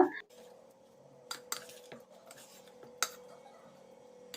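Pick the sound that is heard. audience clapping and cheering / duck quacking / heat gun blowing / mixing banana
mixing banana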